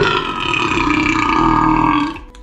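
A loud, sustained belch rolls on for about two seconds, deep and rattling with a steady buzz, then trails off at the end; no talking over it.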